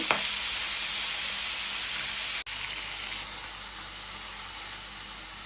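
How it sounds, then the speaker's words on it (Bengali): Fish frying in a pan of hot oil gives a steady, loud sizzle that holds through the whole stretch, broken once by a brief dropout midway, with no talking. "এখানে যে মাছটা ভেজে নিতেছি"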